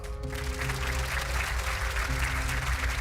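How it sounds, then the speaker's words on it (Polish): A game-show studio audience claps steadily and warmly for a few seconds, a dense continuous patter with faint background tones underneath. "Wielkie brawa."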